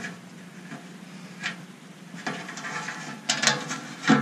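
Power cord fitting being tightened down on a DIY Lichtenberg machine, a series of faint ratcheting clicks and rubbing scrapes up close, growing slightly louder toward the end.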